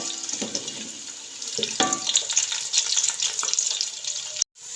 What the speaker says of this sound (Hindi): एक बड़ी प्याज हम इसके अंदर डाल देंगे। इसको हमने हल्का सा फ्राई करना है।